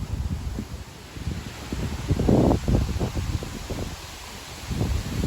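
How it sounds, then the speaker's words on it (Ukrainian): Wind gusts buffet outdoors in uneven, rumbling bursts, swelling and easing over several seconds with a steady hiss behind them. "Сьогодні такий вітер у нас."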